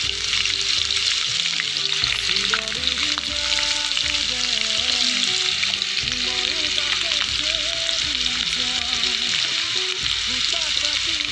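Garlic and onion frying in oil in an Assamese home kitchen, a loud continuous sizzle with stirring under a melodic music track, no talk.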